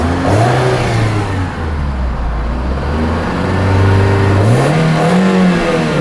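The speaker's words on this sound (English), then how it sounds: "Go ahead and give it a little rev" A 1999 Volkswagen Beetle 2.0 GLS with valve chatter revs at idle, its engine note climbing and falling in a couple of loud, close blips before settling back to a steady hum.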